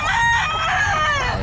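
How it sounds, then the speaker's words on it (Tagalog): A rooster crows loudly and close at a pet market, one sustained harmonic call lasting over a second above a busy background. "Ayan, mga manok niya"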